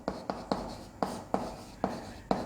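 Marker writing on a board during a chemistry lesson: a string of short squeaky strokes, each starting sharply and then fading, arriving in an uneven rhythm at close range, quiet and with no voice over them.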